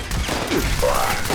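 Holy Fire anti-armor heavy gun from Fallout 76 firing in a steady continuous burst of loud, dense gunfire, close and sustained throughout with no pauses.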